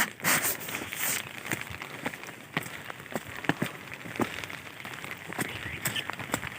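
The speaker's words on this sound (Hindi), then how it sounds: "आज बारिश लगी हुई है" Rain falls in a Pakistani village with a soft, steady patter and scattered sharper drips and taps against surfaces, heard up close with no talking.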